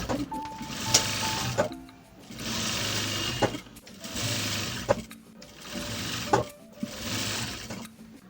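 A sewing machine stitches with elastic thread in rapid whirring bursts, five runs of steady mechanical chatter separated by brief pauses and small clicks, close and clear with no talking.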